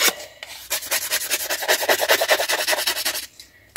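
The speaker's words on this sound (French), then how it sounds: "là je viens limer les bords de façon à ce que l'encre pénètre un petit peu plus dans la carte" A paper card's edges are filed by hand for distressed scrapbook ink work: a close, steady run of quick rasping strokes, evenly rhythmic, with no talking.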